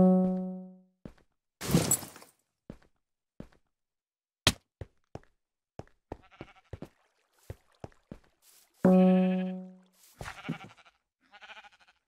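Two distinct in-game sheep bleats from Minecraft, one at the start and one near the middle, separated by a string of short, sharp clicks and thunks from block and game actions, with no talking.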